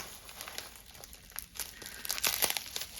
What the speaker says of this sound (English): Wrap it a bunch of times in a plastic bag.